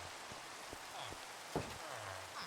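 Steady rain falling in the Minecraft video game, a soft continuous hiss of drops with a few faint low thumps, no voices.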